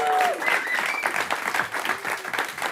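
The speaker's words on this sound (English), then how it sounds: "So huge round of applause." A live audience applauds warmly at a recorded show, a dense, even round of clapping with a brief whistle or cheer riding over it, lasting a few seconds.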